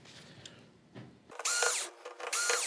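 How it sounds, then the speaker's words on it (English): Screws being backed out of the metal plating on a Sony XBR-65A8F 65-inch TV: quiet clicking at first, then two loud, bright bursts of a powered driver whirring close by, with no talk. "There is going to be two screws right here for the bar down here that we're gonna have to get these screws out"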